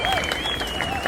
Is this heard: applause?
yes